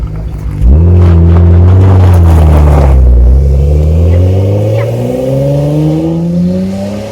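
A Nissan Skyline GT-R R33 engine revs hard and accelerates close by, its loud, steady drone climbing in pitch over several seconds and easing slightly toward the end.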